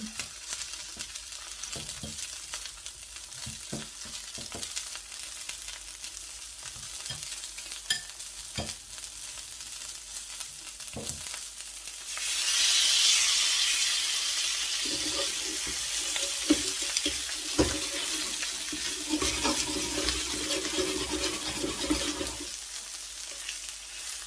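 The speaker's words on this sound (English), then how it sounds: "Fry this side for a few minutes" Salmon frying in a very hot pan that has been turned down low: a steady broadband sizzle that jumps louder about halfway through, with occasional clinks and stirring knocks, and no talking.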